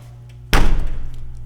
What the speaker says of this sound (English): As I open the door now